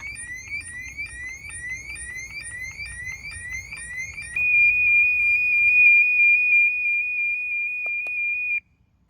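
A pool alarm that has been dunked underwater sounds loudly, a rapid repeating electronic warble that switches to a steady continuous high beep before cutting off abruptly, with faint splashing underneath early on.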